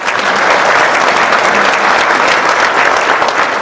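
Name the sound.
audience applause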